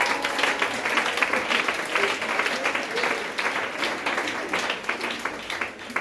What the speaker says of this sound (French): Acclamez mon Jésus.